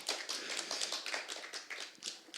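Audience applause at a startup demo day closing event, a quiet, steady patter of many hands clapping at some distance, continuous with small swells and no talk over it.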